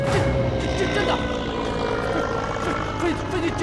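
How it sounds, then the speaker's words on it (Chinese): Japanese warplanes approaching overhead in a Republic-era Chinese period drama, a steady broad engine drone that fills the scene at constant loudness. "飞机真来了，日本人的飞机 朝我们这边飞过来了！"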